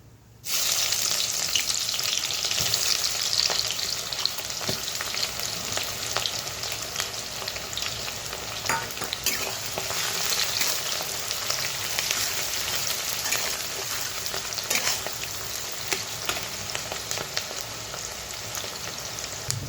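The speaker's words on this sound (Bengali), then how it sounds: "পেঁয়াজগুলো হালকা হালকা ভেজে নিয়েছি।" Chopped onions frying with bay leaf, dried red chilli and whole cumin for a Bengali goat-meat curry with papaya and potato, a steady loud sizzle running unbroken throughout with faint stirring and no talk.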